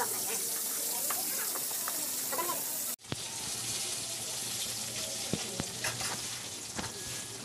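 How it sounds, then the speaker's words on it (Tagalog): A home-cooked dish simmering in a cooking pot, giving a steady bubbling, sizzling hiss close by that briefly cuts out then resumes, with faint clinks and no clear talk. "medyo kumukulo na yung ating niluto"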